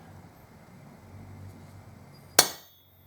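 A hammer strikes a metal center punch once on a workbench while marking holes for drilling in a rubidium atomic oscillator build, a single sharp close metallic crack after quiet room tone.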